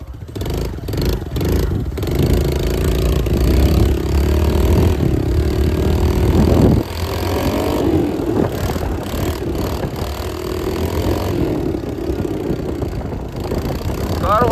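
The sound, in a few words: engine of a 20-year-old motorcycle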